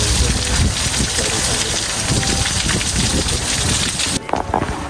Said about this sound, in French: l'orage qu'on attendait.